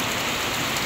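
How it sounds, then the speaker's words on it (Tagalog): Heavy rain pours steadily outside a storefront in the Philippines, a dense, continuous hiss of downpour drumming on surfaces with no voices, loud and unbroken throughout. "napakalakas po ng ulan"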